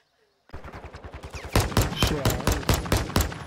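Rapid gunfire in a multiplayer video game, a burst of close, loud shots repeating in a steady rhythm after a brief silent start.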